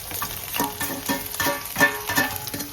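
Capsicum and onion go into a hot pan with partly cooked carrots for an Indian-style pasta, giving a close sizzle with repeated scraping stirs in an uneven rhythm; no one speaks.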